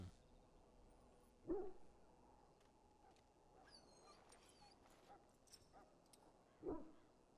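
Dog in a video game gives two short, sharp barks or yelps a few seconds apart, the first near the start and the second near the end, over quiet ambient game sound with faint chimes.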